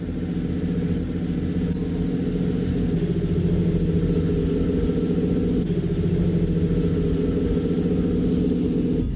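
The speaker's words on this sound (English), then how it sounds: "There is a towboat that goes up and down the river." A river towboat's heavy diesel engine drones steadily at a constant, loud rumble, with no talking over it.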